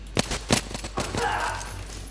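A few sharp gunshots crack out in the Battlefield 3 video game during a co-op stealth extraction mission, two or three distinct bursts early on, then a fading low rumble.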